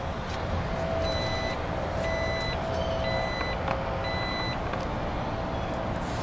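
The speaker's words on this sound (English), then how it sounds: "you can press the button right here to close your lift gate" Power liftgate closing on a 2016 Jeep Grand Cherokee, a regular series of high warning beeps sounding about once a second over a steady low hum of traffic or engine outdoors.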